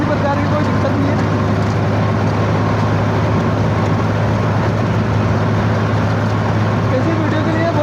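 A Swaraj tractor engine labours up hilly ground, holding a loud, steady, close diesel drone with a constant low throb throughout.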